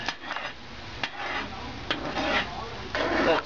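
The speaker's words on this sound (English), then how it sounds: "I'm gonna go ahead and stir it because it's starting to get there" A spoon stirs egg drop soup in a pot on the stove with a steady scraping and rubbing, a few sharper clinks against the side, close and moderately loud with no talking.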